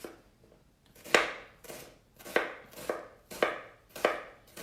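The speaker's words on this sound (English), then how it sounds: "And when you cut down on the onion," Knife chopping an onion on a cutting board in slow, regular strokes, about six crisp chops each trailing off, close and clear with no talking.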